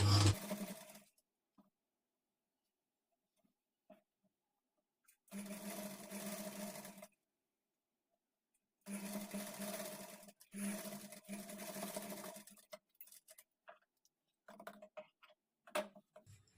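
A sewing machine stitching the neck of a halter-neck blouse, running in several short bursts of rapid mechanical whirring separated by quiet pauses and faint handling clicks.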